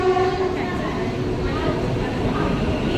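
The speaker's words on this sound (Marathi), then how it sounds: "कर्जत ट्रेन आलेली आहे" A Karjat suburban train rolls in with a loud horn blast at the start, followed by steady rumbling and crowd noise from a busy platform nearby.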